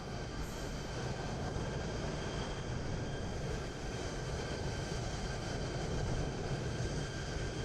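A Vietnam Airlines airliner in Microsoft Flight Simulator 2020 at Hong Kong holds a steady, broad engine roar with a constant whine, unbroken and fairly loud throughout.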